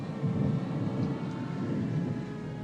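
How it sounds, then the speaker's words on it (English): A steady low rumble of thunder rolls on from an approaching storm, distant and continuous with a faint rain-like hiss and no talk. "There's a storm coming up."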